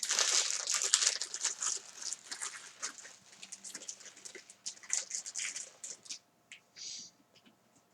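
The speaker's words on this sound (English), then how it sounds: "Oh, gotta put the tissue paper back in there." Tissue paper crinkles and rustles up close, dense crackling bursts at first that thin into sparse, softer crumples and a few isolated rustles toward the end, with no voice.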